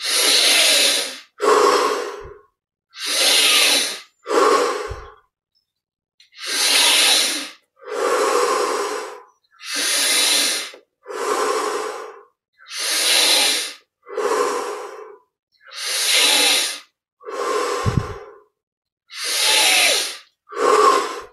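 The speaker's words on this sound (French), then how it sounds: "On augmente l'amplitude maintenant à chaque inspire." Deep, forceful breathing during a Yogoda breathing exercise: about thirteen strong, close breaths in a steady rhythm, each separated by a short silence, with no talk.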